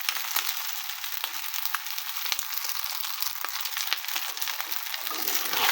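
Leftover cooked rice with turmeric and salt frying in a pan, giving a steady, dense sizzle that runs unbroken for several seconds with faint scraping ticks and no talk.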